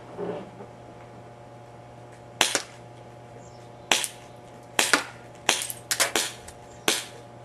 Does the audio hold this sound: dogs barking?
no